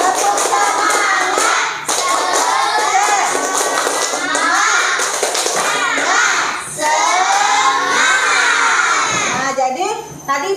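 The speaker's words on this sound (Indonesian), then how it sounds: "Ya, kalau mau tepuk semangat yuk. 1, 2, 3. Tepuk semangat." A classroom of children performs the 'tepuk semangat' clapping chant, loud close clapping in rhythmic bursts mixed with young voices shouting and chanting together for about ten seconds.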